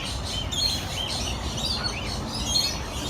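Small birds chirp and tweet continuously at a bird-feeding spot, a dense, steady chorus of close, bright calls with no talking over it.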